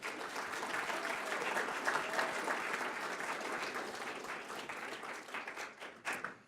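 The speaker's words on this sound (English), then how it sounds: "Let's have a round of applause for the panelists." Audience applause for conference panelists fills the room, steady broadband clapping from a crowd that continues throughout and thins slightly toward the end.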